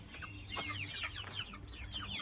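Several chickens clucking close by in a chicken coop, with soft, overlapping chatter and a few higher squawks against a faint low background hum.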